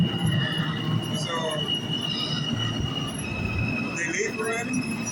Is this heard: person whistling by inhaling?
no